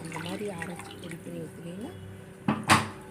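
A voice talks, then a brief splash of water being poured into a cooking pot for bisibelebath follows in two quick gushes.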